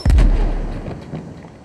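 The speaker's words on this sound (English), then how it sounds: "Flashbang." A flashbang grenade detonates in a TV drama with one loud, close, sharp boom followed by a rumbling decay and faint ringing debris noise, with no voices.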